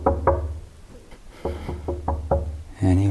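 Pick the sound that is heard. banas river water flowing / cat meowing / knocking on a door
knocking on a door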